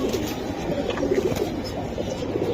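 Pigeons coo repeatedly at a fancy pigeon market, with low burbling calls overlapping in a steady crowded murmur among the birds, close and continuous.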